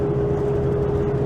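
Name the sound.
car driving slowly on a gravel road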